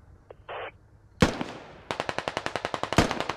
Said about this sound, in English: Frag rocket flies up and over the hill